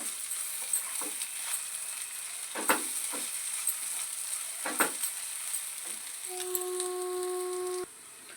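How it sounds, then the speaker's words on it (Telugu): Onions frying in a pan with ginger-garlic paste, a soft steady sizzle with a few scattered stirring clicks and scrapes, fairly quiet; a brief steady tone enters near the end. "ఆనియన్స్ బాగా ఫ్రై అయినాయండి"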